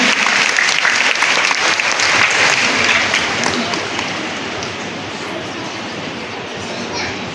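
Large audience applauding at an honour ceremony at a temple gathering, loud dense continuous clapping that stays steady then eases slightly, close and filling the space.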